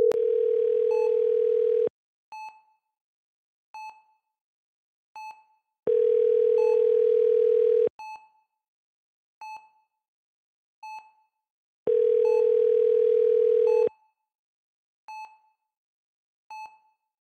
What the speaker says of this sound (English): Let's call our son.